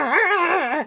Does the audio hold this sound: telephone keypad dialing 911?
no